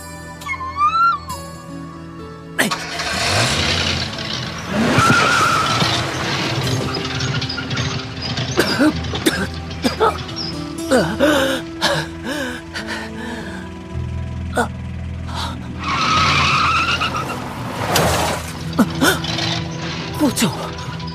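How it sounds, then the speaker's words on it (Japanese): A jeep in a Japanese audio drama rumbles along with engine drone and squealing tire skids, mixed with voices and gasps. "辛いでしょうが、行きますよ、ジープ。"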